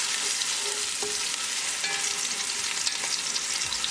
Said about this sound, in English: Cook onion until they get transparent.